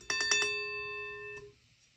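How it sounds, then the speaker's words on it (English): An older, non-polarized fire alarm bell with its striker hitting the gong, giving a quick burst of rapid metallic strikes that rings on briefly, then stops with a short decay. "Bells use a striker like this, which will hit the gong at very, very high speeds, which rings the gong like this"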